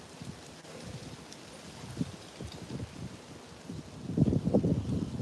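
Low rumbling gusts of wind buffeting the microphone outdoors, irregular and swelling louder toward the end, with no talking.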